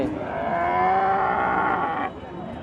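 A black Brahman-type cow at a livestock market moos once, a long, loud, low bellow lasting about two seconds before trailing off into background murmur.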